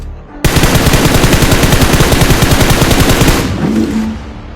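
A P90 submachine gun fires in BGMI, one loud, rapid, unbroken burst of automatic fire lasting about three seconds before cutting off, followed by a brief low tone.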